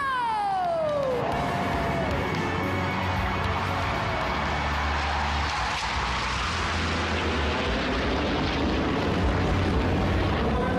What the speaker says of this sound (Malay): BAE Hawk yang kedua, saksikanlah!